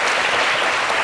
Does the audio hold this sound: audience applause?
yes